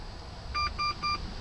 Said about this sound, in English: There we go, that's the beeps.